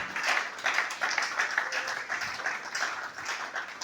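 A church congregation claps in steady rhythmic applause during a sermon, a moderately loud crowd sound with no voices standing out.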